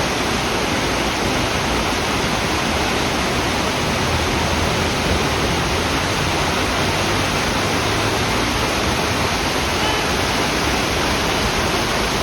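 A small waterfall spills beneath a bridge in front of the city hall in Sarajevo, a steady, loud broadband rush of falling water that holds unchanged throughout with no voices.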